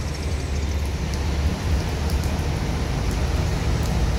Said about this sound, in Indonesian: Palembang pagi ini diguyur hujan